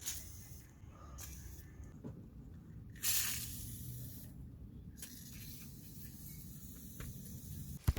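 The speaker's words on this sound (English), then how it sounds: "we're going to apply plenty of WD-40 on nuts and bolts" WD-40 sprayed onto nuts and bolts of a Mitsubishi's suspension anti-roll bar linkage, quiet hissing bursts from the aerosol can with one stronger spray in the middle and a faint metallic tap near the end.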